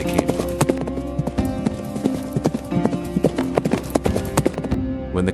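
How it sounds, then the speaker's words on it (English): Horses ridden by a band of thieves clip-clop away from a cliff cave, a loud, close, steady clatter of many hooves striking in quick overlapping beats, with no speech over them. "The thieves riding the horse, leaving towards where they came from."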